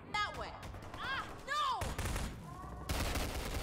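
Gunfire in Half-Life 2 co-op (Synergy), sharp shots and short bursts that crack out repeatedly and mix with whooshing game effects and a voice over several seconds.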